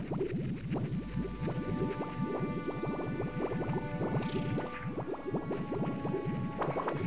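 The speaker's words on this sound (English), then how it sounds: "Just this bubbling of the water that's" Continuous water bubbling in the VR game Fujii, a steady dense burble of liquid with many small pops and drips, fairly close and alone with no talking.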